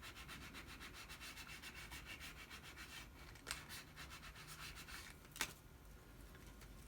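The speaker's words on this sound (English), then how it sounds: "take my transfer tape, place it on top of my vinyl sticker, rub that right on." Transfer tape is rubbed down onto a vinyl sticker, giving a soft, quiet, steady scraping rub in repeated short strokes, with a couple of sharper scratches near the end and no voices.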